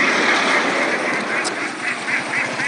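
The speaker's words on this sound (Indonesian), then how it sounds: "Nah, inilah dua bebek, dua itu yang ketinggalan" A small flock of ducks held in a container in Kingkang village, Wonosari, Klaten, quacking continuously in dense, overlapping calls that stay loud and close throughout.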